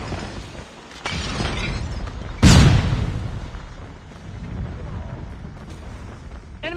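A flashbang grenade detonates in a tactical shooter game, a single sharp loud bang with a bright shattering burst near the middle, ringing briefly over steady background game noise.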